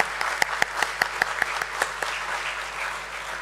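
Audience applause at the Premier Energies Limited stock exchange listing ceremony: dense, steady clapping from a crowd with sharp individual claps standing out, loud and close throughout, easing slightly toward the end.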